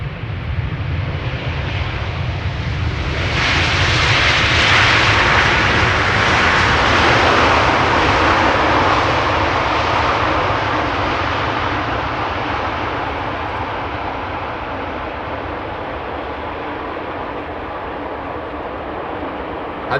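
An airliner landing at Amsterdam Schiphol Airport produces a loud, broad jet roar that swells over a few seconds, peaks, then slowly fades as it passes, with a steady low rumble underneath.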